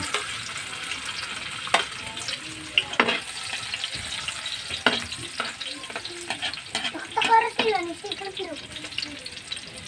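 Garlic and onion frying in a pan for sautéed shrimp paste, a steady sizzle with scattered stirring scrapes and clinks, close and moderately loud, with no talk.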